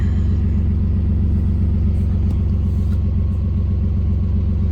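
A Ford Contour engine, with a newly installed fuel pump and an exhaust still needing repair, idles with a steady, loud, deep rumble that holds even throughout, with faint small clicks above it.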